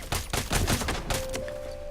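Gunshots in the sniper game Sniper: Ghost Warrior 3, a dense burst of rapid, sharp cracks at close range, followed by a lingering tone and background ambience.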